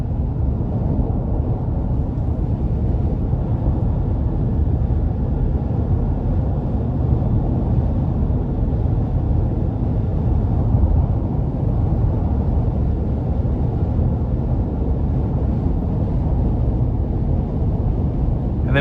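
A 2016 GMC Yukon with 122,000 miles cruises on the interstate under cruise control, giving a steady, continuous low road-and-engine drone with broadband tire noise and no notable changes throughout.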